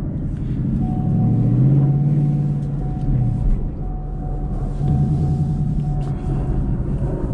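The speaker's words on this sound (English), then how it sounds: "Clutch in, first gear," A manual Ford Mustang pulls away in first gear, its engine note droning steadily at moderate distance and swelling slightly as the car accelerates, with no talk over it.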